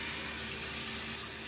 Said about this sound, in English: So now I'm going to turn on the water